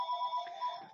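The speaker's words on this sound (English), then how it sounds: "Sorry, that's my phone." A mobile phone ringtone sounds briefly during a conference talk, a faint steady electronic tone lasting about a second with no voices over it.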